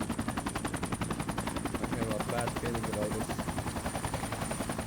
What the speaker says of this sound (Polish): o jest helikopter, jest, jest